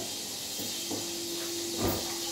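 Mustard seeds hit hot oil in a home kitchen pan with a steady broad hiss of sizzling. A few soft crackles and pops rise briefly above it, and no one talks.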